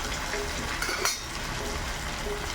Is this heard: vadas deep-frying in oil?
yes